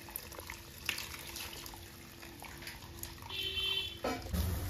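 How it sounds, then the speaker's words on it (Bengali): Water runs from a tap over drained, half-boiled Yippee noodles in a kitchen sink strainer, a steady close splashing stream that grows fuller toward the end. "জল দিচ্ছি কেন জড়িয়ে না যায়।"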